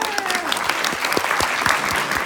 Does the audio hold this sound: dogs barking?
no